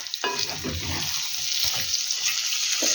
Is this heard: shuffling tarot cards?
no